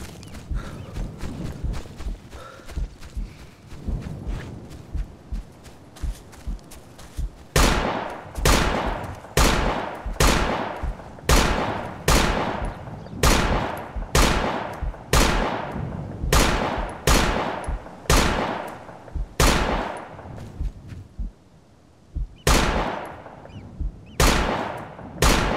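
Rapid gunfire from a support gunner in the military shooter Operation Flashpoint: Dragon Rising: a long run of sharp, evenly spaced shots fired in bursts, loud and close, with a brief lull before a final few rounds.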